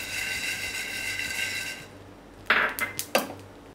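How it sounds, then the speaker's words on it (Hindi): Coriander and spices roasting in a pan, a soft steady sizzle that fades out, followed by a few sharp metallic clinks and scrapes of a utensil against the pan. "2-3 मिनट तक मैं इसे अच्छे से भूनूंगी, ताकि धनिया भी मेरा अच्छे से भून जाए।"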